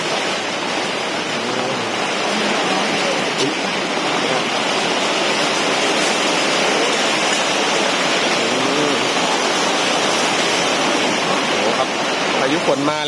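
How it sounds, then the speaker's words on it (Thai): Heavy rain driven by strong wind pours down outside a house's front yard during wall building, a loud, continuous, even roar of falling water and gusts that fills the whole stretch without letup. "ฝนตกมากฝนตกครับ"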